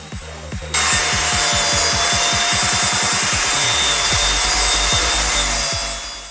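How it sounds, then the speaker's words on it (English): A table saw trims wooden shelf boards to equal size, its motor a loud steady whine throughout, with rapid rhythmic rasping of the blade biting through the wood across the cut. "we're going to bring them over to the table saw and trim them down to the same size"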